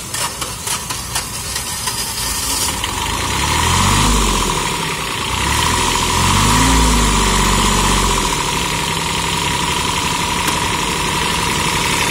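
A high-end Kubota tractor with a full tiller attachment idles loudly and steadily close by, its engine swelling twice as the revs briefly rise and fall before it settles back to a rough, even chug.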